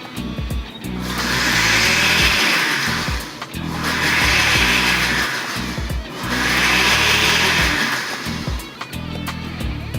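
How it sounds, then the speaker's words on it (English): Blender pulsing cooked shallots, wine and egg yolks on low: three loud whirring bursts of a couple of seconds each, separated by short pauses, with a low rumbling hum underneath throughout. "we're going to make it simply in a blender"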